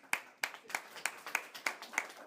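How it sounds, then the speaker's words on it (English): Applause from an audience in a room at a talk on job searching, heard as a run of sharp, evenly spaced claps, eight or so distinct bursts, fairly close and fading between each. "Give yourselves a round of applause."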